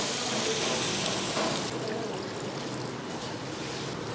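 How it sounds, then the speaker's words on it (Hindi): Water pours steadily into a cooking pot of mutton chops with garam masala, a continuous close splashing stream that softens after about a second and a half, with no voices. "अब इसमें 2 कप पानी ऐड कर दें।"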